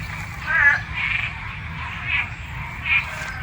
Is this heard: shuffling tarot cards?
no